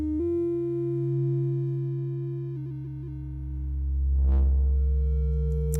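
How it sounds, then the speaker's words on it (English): A steady, pure tone from a SonicLAB Fundamental synthesizer holds with a few stuttering blips, then swells into a warbling frequency-modulated sweep before settling, clean and alone with no talk. "here we're changing the rate of the frequency modulation"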